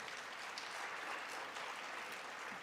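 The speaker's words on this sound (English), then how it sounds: "So a big round of applause." Sustained applause from an audience at an annual research conference, a dense, steady patter of many hands clapping, fairly faint and distant throughout.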